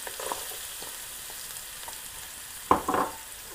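Onions and garlic cooking in a pan for a vegan burger give a steady, quiet sizzle, with a few soft utensil scrapes and stirring bumps near the end.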